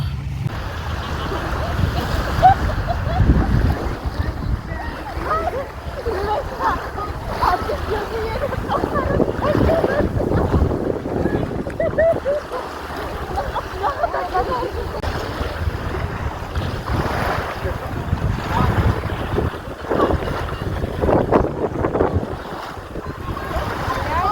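Strong seaside wind in Marmaris buffets the microphone continuously, with a low rumbling roar like surf off a stony shore beneath it.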